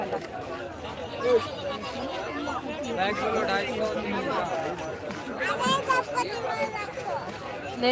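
Dense crowd chatter fills a busy Sunday market, a continuous babble of many voices close by, with a person talking in the foreground.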